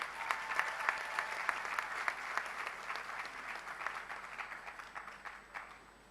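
Applause from the audience at a university commencement ceremony, steady and fairly distant, a dense patter of many hands that holds evenly for several seconds and then slowly thins.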